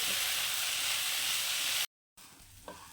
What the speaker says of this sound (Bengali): এটাকে এখন আমি একটা ভাজতে থাকবো মিডিয়াম আছে এটাকে একটু ভালো করে ভেজে নেব এখন